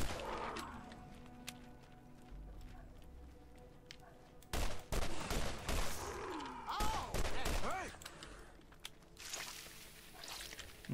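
Enemy gunfire in the Borderlands video game crackles in a dense burst of rapid shots partway through, loud and close, set against game ambience, muffled bangs and a synthetic whooshing tone, with someone speaking intermittently.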